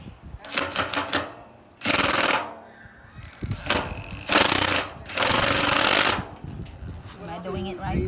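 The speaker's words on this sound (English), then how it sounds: "I'm just gonna use my power drill" A handheld power drill drives a honey extractor, its motor whirring in several loud bursts of a few seconds each with short pauses between. People talk throughout.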